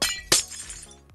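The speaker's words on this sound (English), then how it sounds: "I love the sound of this smashing glass." Glass blocks shatter in the video game Minecraft: two sharp crashing breaks in quick succession, the second louder, each trailing off in a brief tinkling decay.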